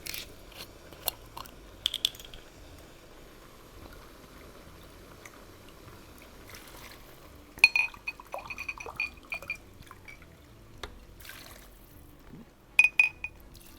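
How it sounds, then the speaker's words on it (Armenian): Four cups of water are poured into a pot for a spelt and vegetable pilaf. Short splashy pours come in bursts between quiet gaps, with light glassy clinks and drips at close range. "հիմա ավելացում եմ 4 բաժակ ջուր"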